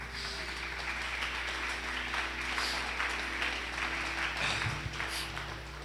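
A church congregation claps during an anniversary service, a steady, moderately faint wash of applause over a low steady hum, with some murmuring near the end.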